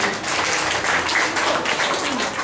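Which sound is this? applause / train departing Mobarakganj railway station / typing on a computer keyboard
applause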